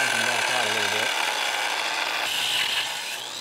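A power tool grinds away at a nut on an old Oliver plow with a steady, loud, rasping whine that shifts in pitch and eases off at the end, a voice murmuring beneath.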